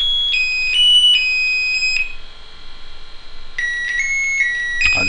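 A small electronics kit circuit plays the Happy Birthday melody as a string of thin, pure electronic beeps stepping between pitches. The tune pauses briefly midway and then resumes, close up and clear.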